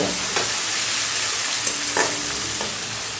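Chopped onions sizzle steadily in hot oil while a spatula scrapes and stirs them every so often, the frying loud and close with no voices.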